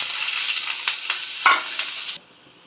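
Onions hiss and sizzle as they hit hot oil tempered with garam masala, dried red chillies and bay leaves in a pan, with scraping stirs; the loud frying sound cuts off abruptly near the end.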